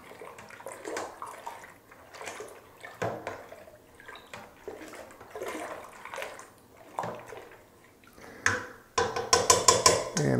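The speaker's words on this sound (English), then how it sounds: "go ahead and pour in the rest" Zinfandel wine concentrate sloshes and pours into a carboy in uneven gurgling bursts, with occasional clunks, ending in a louder, steadier rush of pouring near the end.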